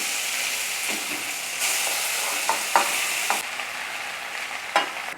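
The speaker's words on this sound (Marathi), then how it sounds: "आता आपल्याला हा किस कढईमध्ये टाकायचा आहे" Steady sizzling of grated mango sautéing in ghee in a wok, with occasional scrapes and clinks of a spatula stirring, close and fairly loud, no voices.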